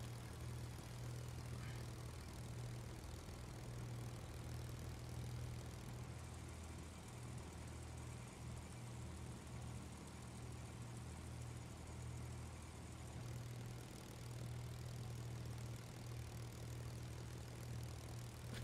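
A Spitfire's engine drones steadily at takeoff, a loud, even propeller-aircraft roar heard from inside the cockpit with a strong low hum throughout and no voices.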